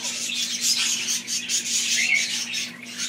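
A pet laughing bird calls indoors with a run of close, shrill squawks and chirps, rising and falling in short bursts over a faint steady hum.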